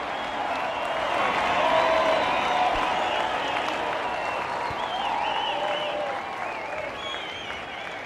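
A home crowd cheers and applauds steadily after a try in the rugby league video game Rugby League 26, a loud, dense roar that swells and then holds with no break.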